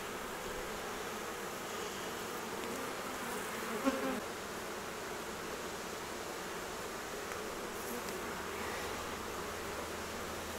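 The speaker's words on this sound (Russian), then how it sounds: "Пчела темная," Dark, nearly black honeybees on a brood frame give a steady, dense buzzing hum, close and unbroken, with no talking.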